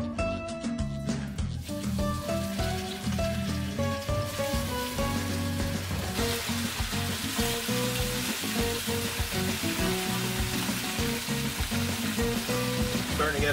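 Moose shanks fry in olive oil across two pans, a dense, steady sizzle that runs continuously, with music playing loudly over it throughout.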